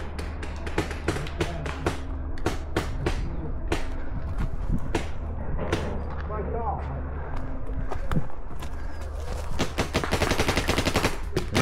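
Rapid, irregular popping of paintball markers during a deathmatch round near an OSB shack, bursts of shots close and distant with players talking over them throughout.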